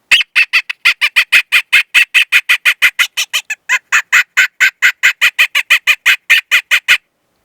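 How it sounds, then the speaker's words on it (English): A squeeze squaller coaxer predator call fitted with an amplifying barrel, loud raspy squeals pumped in a fast steady train with one brief hitch midway, close up and alone. "Now again, we can add that barrel on there, which is going to amplify that sound"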